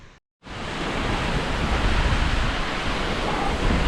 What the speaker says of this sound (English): What a beautiful little waterfall.